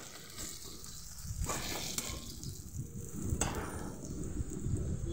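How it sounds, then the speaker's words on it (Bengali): Onions frying in oil for a mutton and potato curry, a continuous close sizzle with occasional stirring scrapes, steady and moderately loud. "পেঁয়াজটা ভাজা হয়ে গেছে ভালোভাবে।"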